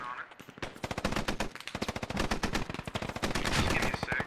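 Rapid automatic gunfire rattles in a video game as dense bursts of closely spaced, loud shots run nearly the whole time with little pause.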